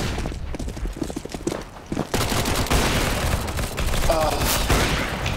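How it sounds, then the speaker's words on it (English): Counter-Strike: Global Offensive gunfire in a match, with a loud burst of rapid shots and clatter that swells after a quieter opening and stays dense and close to the end, as a thrown flashbang goes off amid the fighting. "Throwing flashbang."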